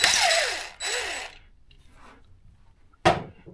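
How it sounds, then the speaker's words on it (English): An impact driver fitted with an 8mm socket removes bolts on a 2024 Suzuki DR650 motorcycle. Two close, loud buzzing bursts come first, then a short quieter rattle, then one more sharp burst near the end. "And now I've taken my impact, I've turned it over, or I put a 8mm socket on there now."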